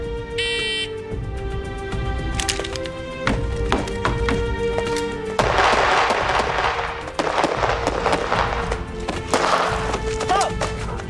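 Rapid bursts of pistol shots crack one after another at a shooting range, hitting paper and steel targets, sharp loud reports in quick clusters with ringing echoes, starting after a short electronic beep.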